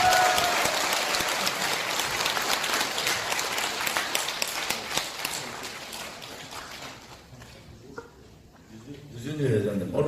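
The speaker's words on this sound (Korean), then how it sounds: "여러분 큰 박수로 환영해 주시기 바랍니다." A crowd at a political party policy seminar breaks into loud applause that gradually thins and fades out, then stray voices and room noise rise near the end.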